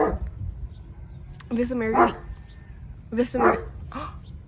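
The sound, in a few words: dog barking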